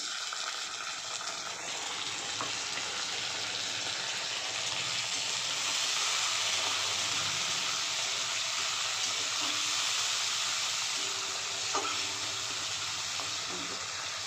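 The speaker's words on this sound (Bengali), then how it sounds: "টমেটোকে একটু ভালোভাবে ভেজে নেবো" Chopped tomato and onion frying in a pan, a steady broadband sizzle with occasional stirring clinks, close and continuous throughout.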